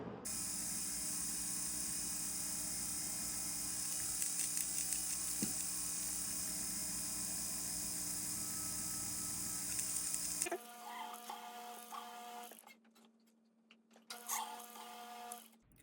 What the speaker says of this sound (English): We've drilled our holes for the stones